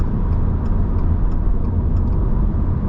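Steady low road and engine rumble inside a 2022 Subaru WRX Wagon cruising at 100 km/h, a constant dense hum with no talk.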